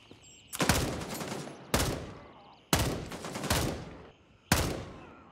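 Rapid gunfire in the video game Gray Zone Warfare comes as four sharp bursts with reverberant tails, one after another in quick succession.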